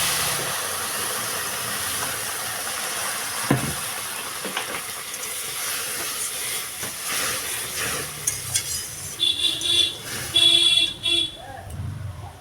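Water poured into a hot pan of fried semolina sets off a hissing, steaming sizzle with scraping stirring, close and moderately loud, ending in brief louder bursts, with a voice speaking over it.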